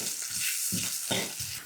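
Fenugreek seeds, green chilli, grated ginger, asafoetida and curry leaves for a tempering are stirred in a pan with the gas off, giving a steady soft sizzle with several low scraping strokes, close and without speech.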